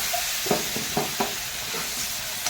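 Mustard paste and green chili paste frying with spices in a pan, a dense steady sizzle with several soft scraping strokes of a spatula stirring close by.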